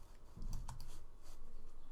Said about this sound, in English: I'll click F on the keyboard